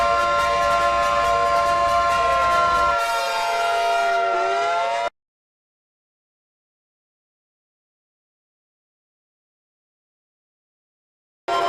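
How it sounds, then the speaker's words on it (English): A loud, steady siren wails with layered tones, its pitch sliding down before cutting off abruptly into a long silence, then briefly resuming at the end. "not an emergency siren but siren for other purpose"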